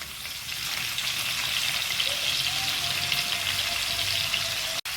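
Jackfruit pieces fry in a salted pan, giving a loud, steady, continuous sizzle and crackle that keeps going throughout, with no voices.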